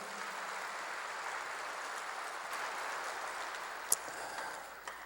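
A church congregation applauds during a Korean worship service, a steady, somewhat distant wash of many hands clapping that holds evenly throughout with a couple of sharper knocks near the end.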